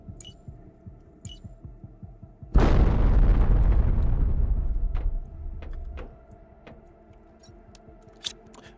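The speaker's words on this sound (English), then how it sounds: "Bombs away." A deep, loud bomb explosion in a video game bursts out over a soft rhythmic thumping, then rolls and rumbles for several seconds before fading back under scattered small clicks and pops.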